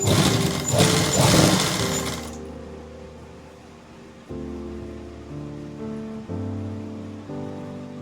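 Sewing machine stitching a trouser pocket, a steady mechanical whir with a noisy burst at first, then running in even stretches that stop and restart, close by and alone.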